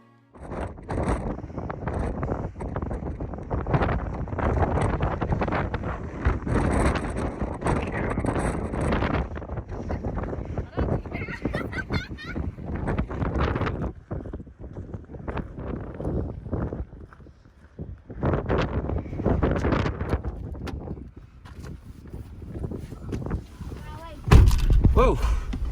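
Strong wind gusts at an alpine lake along the Beartooth Highway on a cold 33-degree day, a loud continuous broadband roar buffeting the microphone almost throughout, with a brief lull before it surges again.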